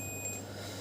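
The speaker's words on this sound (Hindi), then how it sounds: "तो कूल टेस्टिंग में हमें मल्टीमीटर को कंटिन्यूटी रेंज पे करना होता है। देखिए यहाँ पे बजर आ रही है" A multimeter's continuity buzzer, used on a phone circuit board during a short check, gives one steady high beep lasting under half a second and then cuts off.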